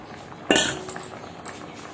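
Pieces of pointed gourd are tipped into a pot of simmering drumstick curry. One sudden loud clattering splash of vegetables and metal is followed by a few lighter utensil clinks, close by and with no talk.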